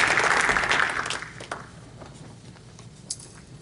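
Audience at an Urdu literary tribute event clapping to welcome a host, moderate applause that fades over a couple of seconds, leaving a few scattered claps and room hush.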